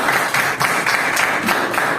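Applause from a classroom of students, a steady dense patter of clapping filling the whole stretch at moderate loudness, with no talk over it.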